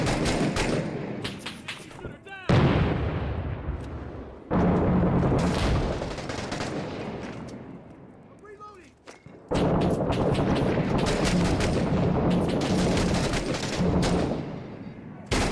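Loud bursts of gunfire and booming blasts from a grenade ring out in a first-person shooter video game, with heavy sustained fusillades broken by short lulls while a voice talks over the combat.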